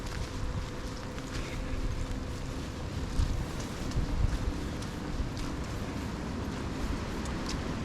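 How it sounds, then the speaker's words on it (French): Strong wind blows outdoors over grassland, a constant loud rumble and roar buffeting the microphone, with gusts swelling now and then and no voices. "Je ne sais pas si vous entendez comme moi le vent."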